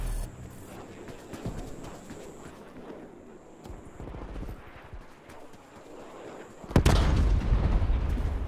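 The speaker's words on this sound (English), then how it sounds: "Artillery inbound." An artillery strike lands in Call of Duty: Black Ops Cold War. Scattered thuds and distant impacts come first, then a sudden loud close blast near the end, followed by a heavy rumbling roar.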